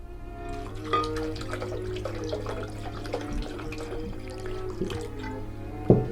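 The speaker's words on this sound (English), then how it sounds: "We're going to put some spring water in a blender." Spring water is poured into a blender, giving a steady close trickle and splash with a few drips and small knocks, and no speech.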